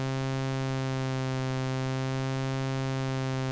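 A Novation Circuit synth holds a steady tone about 50 cents above C, shaped by a sine-wave LFO. It plays as a continuous, even buzzy note with rich stacked harmonics and no talk over it.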